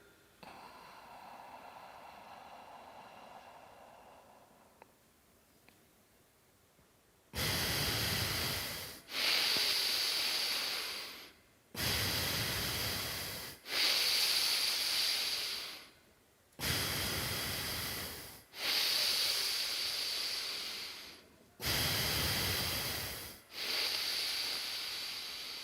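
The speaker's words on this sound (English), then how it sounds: "Belly breathing, chest breathing." Deep belly and chest breathing exercise: after a quiet start, about seven long, loud breaths through the nose and mouth follow in an even rhythm, each a broad rushing hiss separated by brief pauses.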